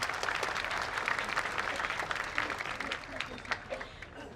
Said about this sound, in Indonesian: Beri tepuk tangan untuk wakil rakyat kita.